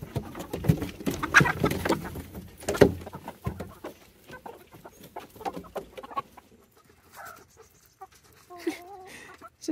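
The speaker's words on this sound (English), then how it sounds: "Those chickens are ready to get up." Chickens clucking in a backyard coop at egg-collecting time: scattered hen clucks and soft bird calls, busier at the start and thinning out, with rustling movement around them.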